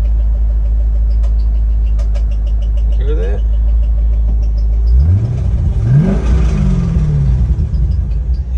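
A barn-find Chevrolet Corvette Z06 idles with a deep steady rumble, then the engine note swells and sweeps upward in pitch before settling, with an odd noise and people talking nearby.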